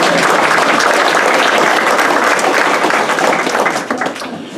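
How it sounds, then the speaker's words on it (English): A banquet crowd gives dense, loud applause at an EMS awards dinner, many hands clapping continuously and close, fading slightly at the end. "Let's give him a nice round of applause"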